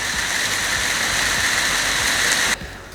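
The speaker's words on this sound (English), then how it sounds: "Second rainstorm." Heavy rainstorm pouring down as a steady, loud broadband roar of rain that drops off abruptly near the end, leaving a quieter wash of falling water.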